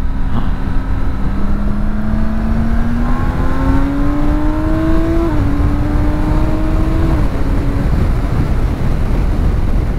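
A 2017 BMW K1600 bagger motorcycle in road mode accelerates with its engine note climbing steadily in pitch, shifting up twice along the way, loud and close throughout.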